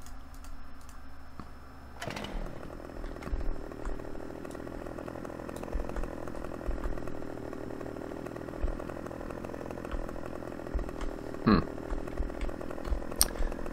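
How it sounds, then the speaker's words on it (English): A chainsaw in the Farming Simulator 15 game drones steadily as a moderate, continuous buzzing hum with small clicks and thumps layered over it and a short sweeping whoosh near the end. "Let's buy ourselves a chainsaw."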